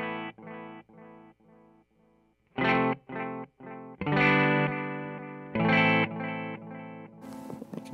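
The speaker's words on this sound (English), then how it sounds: "It's just a very nice, kind of almost analog sounding delay. It kind of degrades a little bit over the repeats." Distorted electric guitar chords played through an Earthquaker Devices Dispatch Master pedal set for delay, each strum followed by softer repeats that trail off and degrade slightly, with clear pauses between phrases.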